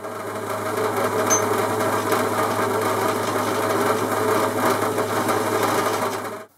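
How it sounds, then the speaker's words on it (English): A drill center drilling a piece of aluminium in a workshop, a steady continuous machine whir running close and loud for the whole stretch before cutting off at the end. "I've just center drilled that"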